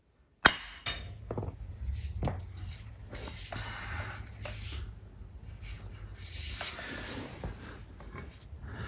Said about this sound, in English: just give it a nice shot with the hammer